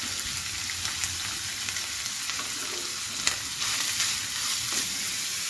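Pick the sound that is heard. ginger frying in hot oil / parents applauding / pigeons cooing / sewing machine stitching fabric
ginger frying in hot oil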